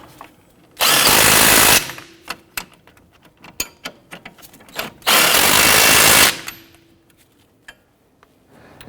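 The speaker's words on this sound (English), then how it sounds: "Snug down the knuckle bolts." A power tool snugs down steering knuckle bolts on a 2006-2014 Honda Ridgeline front suspension, two loud close bursts of about a second each separated by quieter clanks and handling noises.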